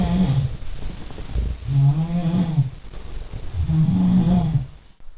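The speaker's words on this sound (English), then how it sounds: "Got a snoring McGee next to me." A person snores loudly in a mountain hut dormitory near Andorra's Comapedrosa peak: three long, rasping, deep snores in slow rhythm, close by, with no talk.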